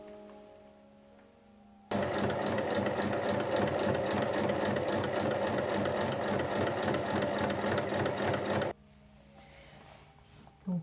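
A sewing machine stitches fabric strips together for a cushion cover, running loud and steady with a fast even needle rhythm for about seven seconds, then stopping abruptly into quiet room tone.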